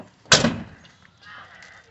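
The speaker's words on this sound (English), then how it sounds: "Close this door up for you." The door of a 1991 Ford F150 XLT Lariat pickup swings shut with one close, solid thud, followed by a faint rattle and quiet background noise.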